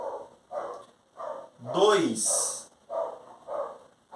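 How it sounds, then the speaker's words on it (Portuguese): A neighbour's dog barks repeatedly at a distance in short, evenly spaced barks, faint and partly masked by someone speaking indoors. "porque tem um cachorro latindo no meu vizinho."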